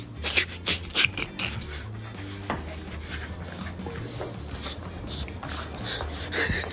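A dog pants and snuffles close by, with short snorts and faint whimpers in a steady rhythm, and louder bursts of breath near the start.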